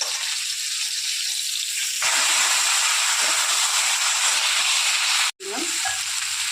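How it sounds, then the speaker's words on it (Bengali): Eggplant frying in hot oil in a pan, a loud continuous sizzle and hiss heard up close throughout, with a brief clatter of stirring near the end. "রেখে এখন বেগুনটাও এরকম করে ভেজে নিচ্ছি।"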